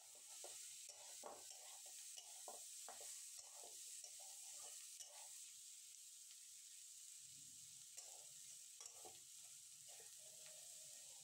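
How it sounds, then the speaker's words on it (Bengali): Chopped tomato and peas fry gently with boiled potato and beans, giving a faint, steady hiss of oil, scattered soft stirring scrapes and clicks, and no talking. "এটা আমি অল্প কিছুটা ভেজে নেব।"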